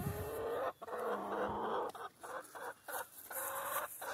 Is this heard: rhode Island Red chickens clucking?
yes